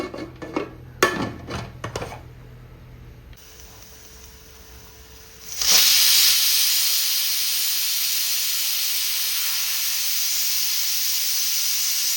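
A loud, steady hiss of steam bursts from a pressure cooker cooking lentils after some kitchen clatter, then rushes on continuously without letting up.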